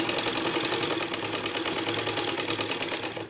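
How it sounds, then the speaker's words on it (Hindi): A sewing machine runs steadily, stitching kurti-coloured fabric onto stiff buckram for a fancy back design, with a fast, even mechanical chatter of needle strokes that eases off at the very end. "ये पूरे पे हमने सिलाई लगा लेंगे"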